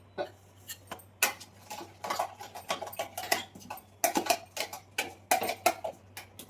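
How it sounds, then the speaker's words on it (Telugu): A spoon clinks and scrapes against a mixer jar while stirring tomato coriander chutney, giving a string of light, irregular metallic taps close by. "ఒకసారి స్పూన్ తోటి కిందికి మీరు ఇలా కలిపేసేయండి"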